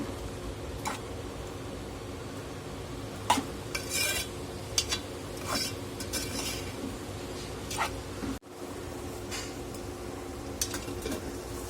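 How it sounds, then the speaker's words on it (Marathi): Bitter gourd dry vegetable being stirred in a pan with a bowl of water added, the utensil scraping and clinking against the metal in scattered strokes, up close and moderately loud over a steady low background hum. "परत एकदा छान मिक्स करून भाजी वाफून घेणार आहोत"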